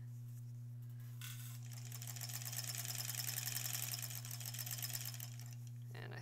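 A sewing machine stitches along the edge of an embroidered Halloween tote bag near the opening, a steady close whirring run that swells in the middle and stops near the end, over a constant low hum.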